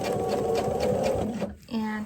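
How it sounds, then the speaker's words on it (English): Sewing machine stitching fabric binding onto a quilt at a quarter-inch seam, a steady rapid motor whir with needle chatter that briefly stops and then starts again, with a voice talking over it. "And then I'm just going to start sewing"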